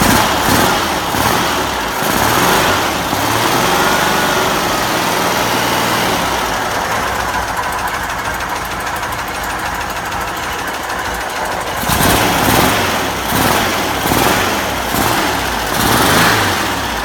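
A VW-type Porsche engine idles on a run stand, running slow and rough with a steady loud drone and a brief rise partway through. No one speaks.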